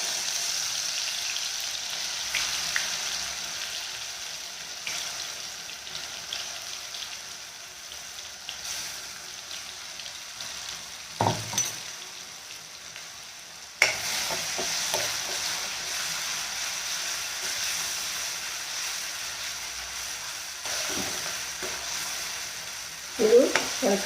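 Coarsely ground onion, ginger and garlic paste fries in hot oil for green chicken chops, a soft continuous sizzle with occasional stirring scrapes and clinks, close but fairly quiet, with no talking.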